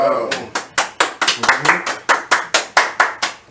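A run of about a dozen sharp hand claps at a steady, fairly quick pace, loud and close, with a voice briefly underneath at the start.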